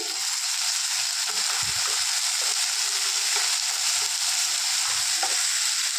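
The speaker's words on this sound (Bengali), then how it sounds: "এবার দিয়ে দেবো 1 চামচ আদা রসুনের পেস্ট।" Ginger garlic paste frying with browned onions in a pan, a continuous close sizzle broken by intermittent scraping and stirring clicks.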